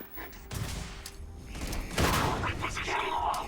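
Impact grenades blow up in a Starfield firefight, a burst of heavy thuds and booms that piles into dense, continuous gunfire-like crackle and rumble, loud and close, with a voice briefly audible underneath.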